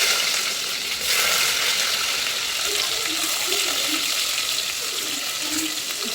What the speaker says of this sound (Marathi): मस्त कांदा गरम करून घ्या मस्त।